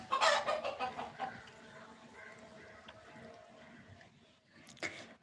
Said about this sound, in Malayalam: ഈ കോഴി എങ്ങോട്ടാ വരുന്നേ